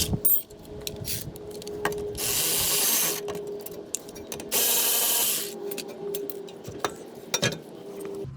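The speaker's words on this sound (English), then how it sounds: "So we're going to be removing the caliper." Rear brake caliper bolts on a 2018 Toyota Sienna come out under a power tool: two long, loud whirring runs with mechanical clicks and clanks scattered around them, recorded up close and without speech.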